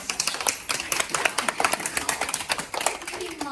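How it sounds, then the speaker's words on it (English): Young first-grade students clap together in a classroom during a math lesson, a busy, steady patter of many small hands, fairly close, with some voices mixed in. "Can we give a round of applause"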